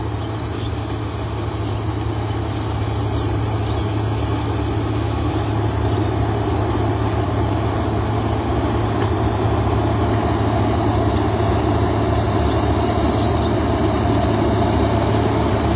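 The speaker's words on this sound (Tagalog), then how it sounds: "Ang laking, napakalaking makina yung ginagamit nila pang harvest." A heavy sugarcane harvester engine drones loudly and steadily throughout, a constant low rumble with no breaks and no talking.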